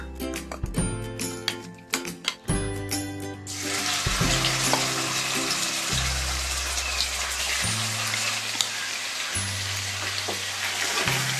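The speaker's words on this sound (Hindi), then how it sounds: "ऑयल के गर्म होने के बाद जो हमने चिकन सेट होने के लिए रखा था वो डाल देते हैं।" Marinated chicken drops into hot oil in a kadhai after a few clattering knocks, and a loud, dense sizzle bursts up and carries on steadily, close by.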